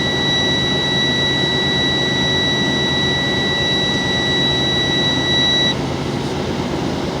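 Truck air brake system building up air pressure, heard as a steady loud broadband hiss and rumble from the compressor with two thin high steady tones that stop near the end, no talking.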